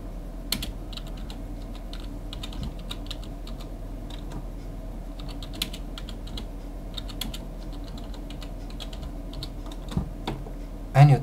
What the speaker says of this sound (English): And you type the following command: MKV extract tracks